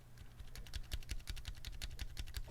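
Mechanical keyboard with heat-shrink tubing on the stabilisers, typed on in a quick, steady run of soft, close clacks with little rattle, faint and with no talk.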